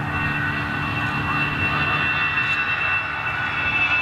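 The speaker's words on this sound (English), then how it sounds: "Now, they are CFM 56 engines now." A jet airliner fitted with CFM56 engines roars continuously at Amsterdam Schiphol, a loud, steady engine drone with a high whine riding over it throughout.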